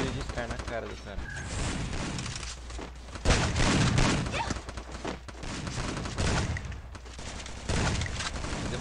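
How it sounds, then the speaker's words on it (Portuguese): Scar rifle gunfire in a video game, dense bursts of shots and booms crowding the whole stretch, loud and continuous with a heavy hit around the middle, mixed with game noise. "Nossa, deu um tiro de Scar na cara do cara."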